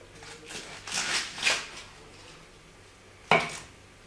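A knife cuts lettuce in half on a board for kimbap: a few soft crisp crunches close together, then a single sharp chop a moment later, in a quiet kitchen.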